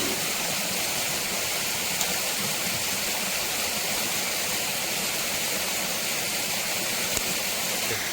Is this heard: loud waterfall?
yes